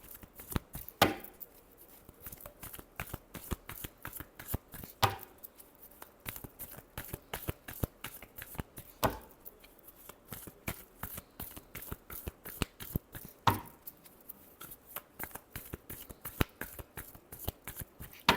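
Tarot cards are shuffled by hand in quick, crisp riffling flicks, with louder bursts recurring about every four seconds amid the steady close-up patter, no talking.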